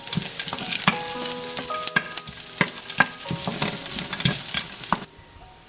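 Rice noodle upma ingredients such as onion and roasted peanuts fry in a pan, a close sizzle punctuated by frequent rhythmic clinks and scrapes of a spoon stirring, which quiet abruptly near the end.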